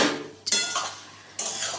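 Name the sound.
stirring boiled banana flower and chickpeas in a pan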